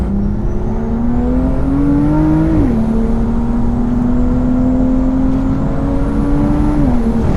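A turbocharged BMW N55-based M2 engine making 625 bhp with a big turbo drones steadily near and loud, its pitch rising then dropping sharply twice as the dump valve vents with a whooshing release.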